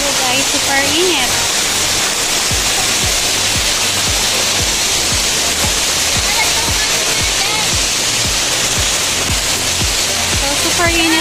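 Mainit Falls, a hot-water waterfall in Davao, sends up a loud, steady roar of rushing water, with people talking and a faint rhythmic low thumping underneath.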